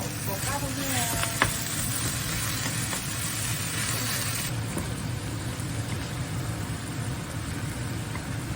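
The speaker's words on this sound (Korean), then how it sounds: "이렇게 약간 갈색 되면은 고기 넣으면 되거든요." Meat fries in a pan with browned aromatics, giving a continuous dense sizzle close up that runs unbroken from start to end.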